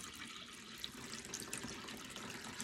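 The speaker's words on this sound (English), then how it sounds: "Fill the container up about 3/4 of the way up, because obviously as you add your stems the water rises." Water running steadily from a tap into a flower container, a continuous hissing pour with faint splashes and no talk, filling it about three quarters full for a floral table display.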